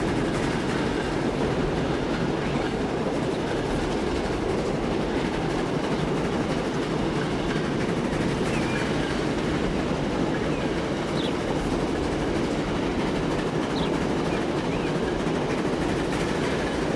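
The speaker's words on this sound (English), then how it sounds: "The first being the noise of the Pullman's now picking up" Continuous rumbling roar of a Pullman train running at speed in the video game Transport Fever 2, steady and dense with rattling wheel noise throughout, no voices.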